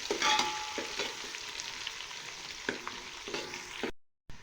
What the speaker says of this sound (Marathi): हे ना आपल्याला छान लसूण अद्रकची पेस्ट तळून घ्यायची